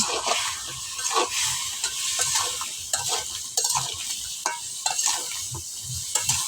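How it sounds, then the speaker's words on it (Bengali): Sponge gourd and potatoes stir-fried in a pan, with a soft continuous sizzle broken by repeated scraping and clinking strokes of a spatula at an uneven rhythm, close up and without talk. "তো এখন আবারও দুন্দুলগুলা ভালো করে কষিয়ে নিই।"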